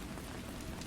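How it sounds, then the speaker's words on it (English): Soft rain patters steadily against window panes at night, a dense even hiss with no distinct drops and no voices, lasting just under a second. "a soft rain began to fall, tapping gently against"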